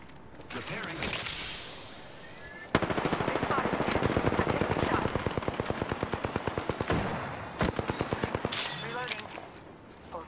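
Gunfire in Apex Legends: sustained automatic bursts of rapid, evenly spaced shots, loud and close, with some scattered reports before and after the main volley and a brief spoken callout mixed in.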